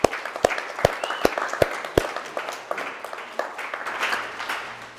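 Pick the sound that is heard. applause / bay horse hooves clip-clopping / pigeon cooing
applause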